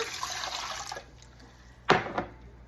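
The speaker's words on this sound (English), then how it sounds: "All right, so I am going to add 2 cups of water." Water pours briefly into a cooking pot, followed by a quieter lull and then a couple of short splashes and sloshes nearby.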